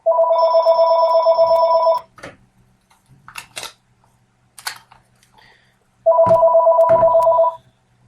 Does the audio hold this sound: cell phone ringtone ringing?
yes